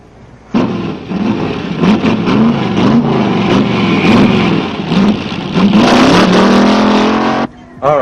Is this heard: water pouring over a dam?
no